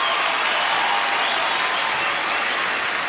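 An audience at a glamorous entertainment gala applauds loudly for Madhuri, a dense, even roar of many hands clapping that holds steady for about three seconds.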